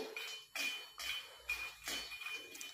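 Lotus seeds (makhana) being dry roasted in a kadhai make soft rhythmic rattling scrapes, about one stir every half second, close and quiet with no talk.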